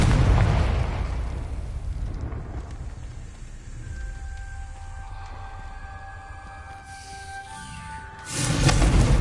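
Fiery spell blasts from the Hogwarts Legacy video game, a Confringo fire spell among them, land as heavy booming bursts over a rumbling backdrop, ending in a loud burst near the close.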